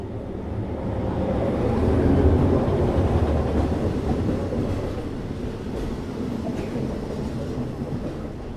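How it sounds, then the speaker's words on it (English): A train heading north from Bangkok rolls past a railway station at Lampang, a loud, continuous low rumble of wheels and cars that swells midway and then holds steady as it passes close by. "That train coming north from Bangkok has cleared the way for us to pass through"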